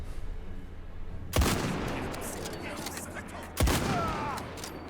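Gunfire in a 1990s Indiana Jones video game, with two sharp loud shots a couple of seconds apart, each ringing out with a long fading echo as if across open desert air.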